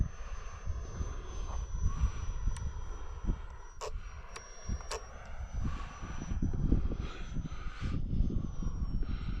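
A small blue RC foam jet flies with a missing wheel, its steady electric whine and airflow rush carrying through, rising and falling as it passes, fairly loud and alone.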